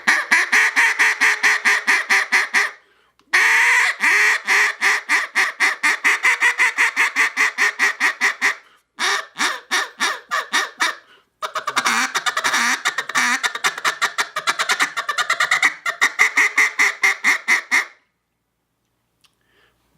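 An RNT Mondo duck call is blown in rapid runs of loud, close quacks, with rhythmic feed chatter and sequences broken by short pauses, ending in silence.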